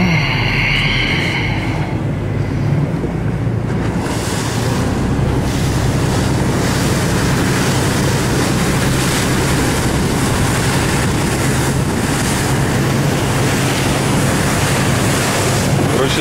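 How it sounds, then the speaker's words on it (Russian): Sea waves at Navagio Beach on Zakynthos, Greece, a constant loud roar of surf mixed with heavy wind buffeting the microphone, unbroken for the whole stretch. "Море встает за волной."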